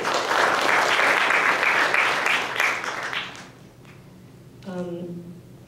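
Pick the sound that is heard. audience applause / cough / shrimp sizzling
audience applause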